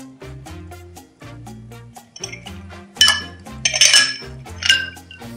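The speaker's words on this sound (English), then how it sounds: "Give this a little bit of a shake just to cool down that Kahlua" Ice rattling inside a cocktail shaker holding Kahlua, a series of rhythmic clinks and knocks that grow brighter and sharper toward the end, close and with no voices.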